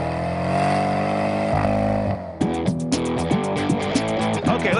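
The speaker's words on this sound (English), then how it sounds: "it's got one of the great exhaust notes in American driving today" A 2014 Chevrolet Camaro ZL1 V8's loud, raspy exhaust note drones steadily, then breaks into rhythmic pulsing bursts as the engine revs and lifts repeatedly.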